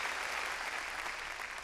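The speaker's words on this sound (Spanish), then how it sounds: "Démosle palmas fuertes, hermano, nuestro Señor." Loud, dense applause from a church congregation during a Sunday service, a steady wash of many hands clapping together that fills the whole moment without letting up.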